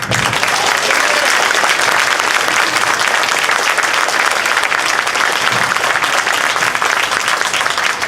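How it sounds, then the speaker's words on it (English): Loud, sustained applause fills the hall at a congressional district political convention, dense clapping from a large audience continuing unbroken throughout without any speaking voice on top. "Let's give them one more round of applause."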